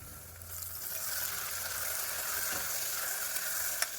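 Onions, crushed ginger, garlic, chillies and freshly added mint fry in a pan, giving a steady, soft sizzle with no talk and one small clatter near the end.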